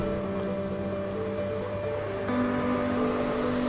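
Steady engine hum and drone, loud and close, from a silver Honda Vario 150 ISS scooter at idle, with a slight change in tone partway through and no talking.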